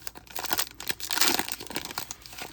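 A Topps football card pack is torn open, a close, loud crinkle and rip of foil wrapper lasting a couple of seconds, with no talking.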